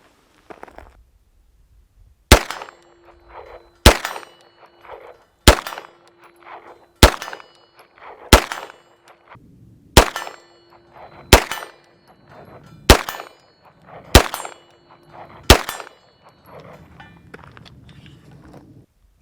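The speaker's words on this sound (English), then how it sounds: "I'm just going to fire 10 rounds at each of my long range targets" Beretta M9A3 9mm semi-auto handgun fired at long range targets outdoors, ten sharp loud shots in a steady rhythm about every one and a half seconds, each followed by a faint metallic ring from the target.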